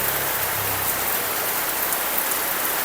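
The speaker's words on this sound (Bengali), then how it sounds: "এই যে বৃষ্টি হচ্ছে" Steady rain falls outdoors, a dense, even hiss of drops hitting surfaces that holds at a constant level throughout, with no voices.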